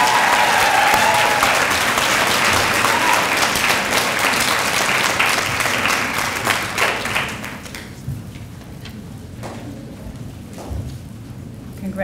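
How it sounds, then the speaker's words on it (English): Graduation ceremony audience applauds practical nursing graduates in a hall: dense, sustained clapping that fills the first several seconds, then thins and fades to scattered claps and murmuring crowd noise. "And a round of applause for the practical nursing graduates."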